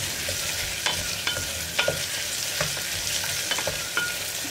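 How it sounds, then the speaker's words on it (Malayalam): Onions sautéing in oil inside a pressure cooker for a potato curry, a soft continuous sizzle punctuated by sharp clicks and scrapes of a spoon stirring against the metal pot. "സവാളയൊന്ന് ഒരു മിനിറ്റ് ഒന്ന് ഇളക്കി കൊടുക്കുക"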